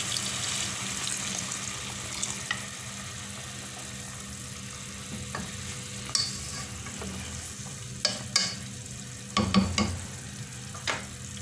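Methi leaves and peas fry in a pan with a steady, broad sizzle that fills the whole stretch, with a few sharper scrapes and clinks of stirring near the end.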